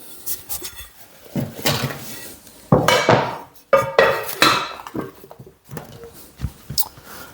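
A baked white sourdough loaf, dusted with rice flour, is tapped and knocked by hand, giving several hollow thumps in irregular bursts. Clattering handling noises from the kitchen come between the knocks, and everything sounds close.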